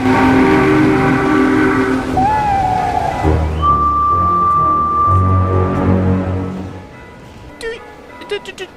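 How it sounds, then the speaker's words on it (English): A steam locomotive whistle sounds long and loud as the train rushes by. It starts as a strong, steady tone, then slides and thins out, fading away over the last few seconds. "rushing by, whistling long and loudly, and then fading into the darkness"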